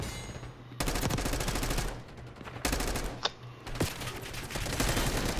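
Call of Duty gunfire crackles in loud automatic bursts, with dense rapid shots broken by short pauses and a few sharper single reports, close and alone without talk.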